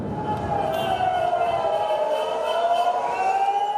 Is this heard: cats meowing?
no